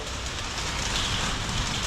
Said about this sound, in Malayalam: ഇപ്പോൾ നല്ല മഴ പെയ്യുന്നുണ്ട് ഇവിടെ സൗണ്ട് ഒക്കെ ഉണ്ടാവും